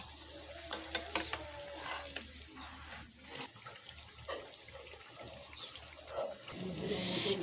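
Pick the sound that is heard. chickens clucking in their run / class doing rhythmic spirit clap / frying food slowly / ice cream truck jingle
frying food slowly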